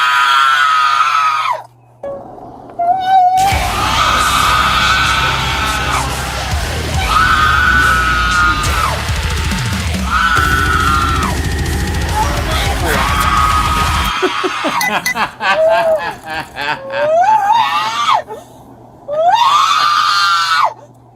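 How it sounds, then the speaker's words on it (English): A woman being arrested and put back in handcuffs screams and yells loudly in long, strained bursts with short breaks, her cries rising and falling near the microphone. "She has no other recourse other than to scream and yell."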